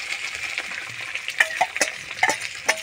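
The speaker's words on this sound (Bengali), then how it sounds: "এইভাবে পেঁয়াজ তুলে নেড়ে নেবো।" Onions fry in leftover fish oil in a pan, giving a soft steady sizzle broken by several distinct scrapes and knocks of a spatula as they are stirred.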